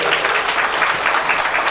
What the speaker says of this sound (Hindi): उन नौजवान लोगों के लिए एक बार जोरदार ताली बजाए सकिए।